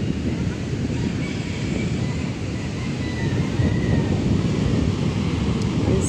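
Ocean waves roll in against the shore beside houses at a seaside resort, a continuous loud roar of surf mixed with heavy wind buffeting the microphone.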